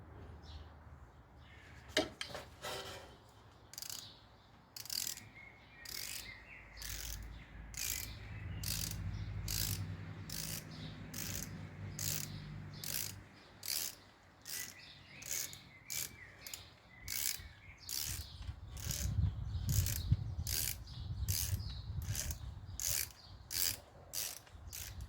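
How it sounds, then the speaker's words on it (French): A Torx T45 wrench turning a bolt on a rear brake with an electric parking brake clicks in a long series of sharp ratcheting ticks, steady and close, with quiet low rumbles underneath and no talking. "je vais visser dans le sens du serrage sans forcer avec une clé Torx T45"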